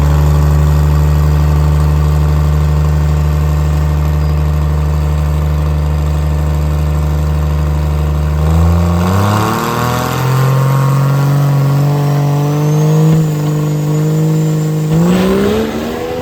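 A 4x4 diesel truck idles loudly and steadily, then launches hard on a drag pass with a sudden surge in engine roar and pitch, climbing through the run before a shift near the end.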